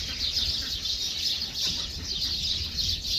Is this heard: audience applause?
no